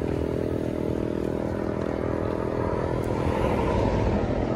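A motorcycle engine runs steadily at close range on a roadside in Libmanan, Camarines Sur, a loud, even drone that fills the whole stretch with no talk over it.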